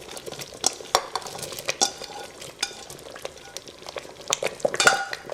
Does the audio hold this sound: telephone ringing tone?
no